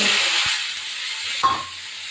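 Pumpkin, cauliflower, potato and peas fry in hot oil, giving a steady close sizzle and hiss with a brief clink of a utensil midway.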